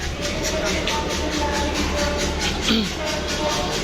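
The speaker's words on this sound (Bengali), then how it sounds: "এই যে একটা ট্রেন ঝিকঝিক ঝিকঝিক করতেছে" A train rumbles at a large railway junction platform in Kushtia district with a steady rolling clatter. Voices and platform bustle are heard around it.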